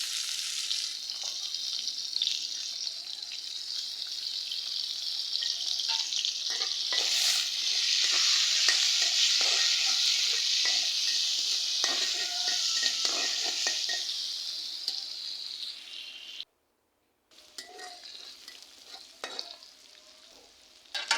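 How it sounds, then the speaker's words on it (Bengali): Green chilies and onion sizzle loudly in hot oil in a wok, a steady close frying hiss with stirring scrapes, then a brief pause before the sizzling resumes more quietly. "এই যে আমি কড়াইতে তেল দিয়ে দিলাম, আর এখন দিয়ে দেবো কাঁচামরিচ"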